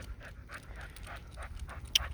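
A 15-year-old dog pants steadily in repeated breathy bursts during a quiet night walk, close to the microphone, with a faint low rumble of outdoor background noise.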